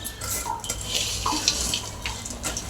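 Water poured at home while making pani puri water with tamarind and dates, a short splashing, trickling flow close by that runs steadily for a few seconds with faint clinks.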